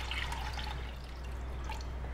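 Kanji water, the fermented liquid for kanji vada, pours into a serving bowl, a soft steady trickle and splash heard up close for a couple of seconds.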